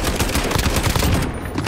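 Loud, dense gunfire fills a Call of Duty Modern Warfare multiplayer match. Rapid shots overlap into a continuous, close-sounding barrage with no pauses.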